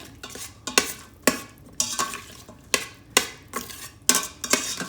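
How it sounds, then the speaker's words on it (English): Onions seasoned with salt and pepper cook in a pan for smothered beef tips, with a soft sizzle beneath about nine rhythmic, close scraping strokes of a spoon stirring against the pan. "And then we're just going to cook those until they soften"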